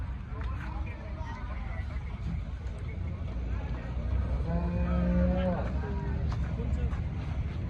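A cow lets out a low moo partway through, heard over steady background noise and a faint engine hum.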